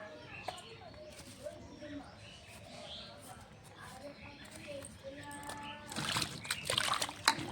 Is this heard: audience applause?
no